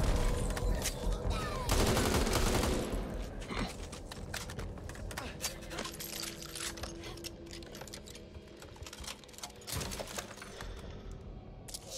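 Rapid automatic gunfire in the zombie shooter Back 4 Blood, dense bursts of shots loud near the start, then continuing steadily through a busy battle mix with scattered impacts.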